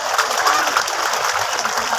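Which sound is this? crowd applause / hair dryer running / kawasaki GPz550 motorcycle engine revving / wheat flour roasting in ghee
crowd applause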